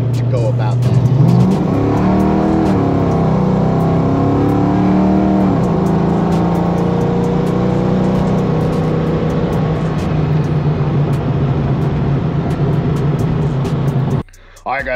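A car engine runs steadily with rising and falling revs, loud and continuous throughout, with a voice speaking over it, before cutting off near the end.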